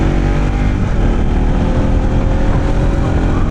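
Several motorcycles ride together along a road in Nepal, a loud continuous engine drone with wind rumble, heard up close from one of the bikes, no voices.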